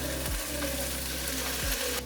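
Tofu and cauliflower sauté in a hot pan, giving a steady close sizzle and frying crackle, with a couple of brief scrapes as the pieces are stirred.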